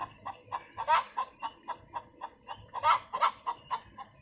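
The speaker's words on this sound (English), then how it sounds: "she'll stop cackling like that." A hen about to lay an egg gives a long, rhythmic cackle: repeated nearby clucks at an even pace, swelling into two louder bursts partway through, with no voices.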